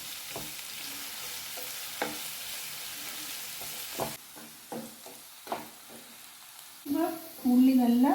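Sliced onions fry in a pan for garlic chicken, turning golden brown, with sharp intermittent scraping and stirring knocks over a steady sizzle; a louder burst of frying near the end.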